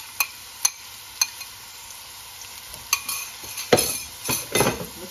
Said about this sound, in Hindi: ये 2 दरमियाने साइज़ के प्याज, इनको लाइट ब्राउन करेंगे प्याज को